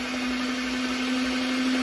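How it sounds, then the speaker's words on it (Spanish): Electric stand mixer beating three eggs at its lowest speed: a loud, steady motor whine with a constant hum, continuous and unbroken, with no voices. "Vamos a batir nuestros 3 huevos. Le tengo la velocidad más baja."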